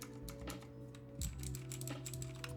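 Rapid keystrokes clatter on a mechanical keyboard fitted with Razer Green clicky switches and heavy 300 gram springs, a dense, steady run of sharp clicks over a low background hum.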